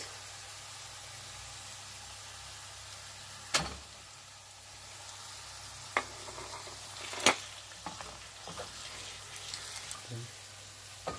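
Half a kilo of ground beef frying and being stirred in a pan, a steady soft sizzle with a few sharp clinks and scrapes of the utensil against the pan.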